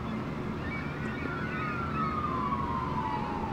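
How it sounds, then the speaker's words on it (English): A distant siren wails with a slowly falling pitch over steady outdoor background noise. "And a siren."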